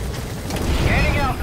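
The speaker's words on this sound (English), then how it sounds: "Let's go ahead and get on the chopper and leave the mission area." Helicopter lifting off in the video game Metal Gear Solid V: a steady, loud rotor rumble with a rising whine that builds toward the end.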